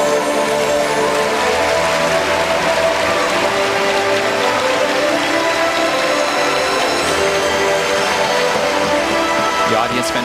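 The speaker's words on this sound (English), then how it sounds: "Fantastic, rewarding her efforts, applauding her on" Arena audience applauding a figure skater, Cynthia, mid-program, a broad steady wash of clapping held at even loudness throughout, with scattered crowd noise and faint talk beneath.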